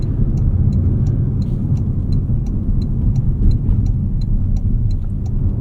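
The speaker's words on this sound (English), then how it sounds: "Nice steep hill there under load. Engine is quieter in this new RAV4." A steady low engine drone under load, muffled as if from inside the vehicle, with faint regular ticking above it; a 2026 Toyota RAV4 Limited climbing a steep hill.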